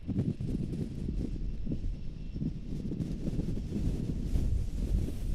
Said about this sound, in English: the wind keeps blowing my laptop over.